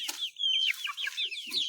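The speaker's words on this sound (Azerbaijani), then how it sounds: "Gözəl Brahma xoruzdur." A Brahma rooster clucks close by in a quick series of short, chirpy calls with small pauses between them, heard on its own without any talking.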